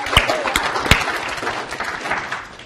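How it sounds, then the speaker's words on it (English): A small group of listeners offers a modest round of applause, with a few sharp, distinct claps standing out near the start before a lighter, scattered patter fades away. "That's a nice little round of applause there again."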